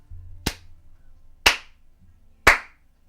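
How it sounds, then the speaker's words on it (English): Three sharp, isolated hand claps ring out about a second apart, crisp and near against quiet low background noise. "you just hear this one clap that stands out from the rest"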